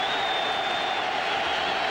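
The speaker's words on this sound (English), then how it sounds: "Crowd comes to their feet," A large football stadium crowd at a Georgia vs. Tennessee college game roars steadily as fans rise to their feet before a third down, a dense, continuous wash of cheering with no gaps.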